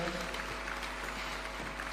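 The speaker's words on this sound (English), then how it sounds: "Why don't we welcome him with a warm clap, sir?" An audience at the Africa Fertiliser and Soil Health Summit in Nairobi claps to welcome the President of Zambia, a steady, moderately loud burst of applause heard alongside a voice from the stage.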